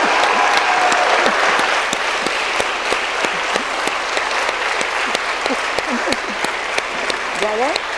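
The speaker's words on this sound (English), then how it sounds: "Applaud yourselves." Graduates at a Smith College honorary degree ceremony applaud themselves in a sustained, dense wash of clapping that fills the hall, with scattered whoops and voices rising faintly beneath it.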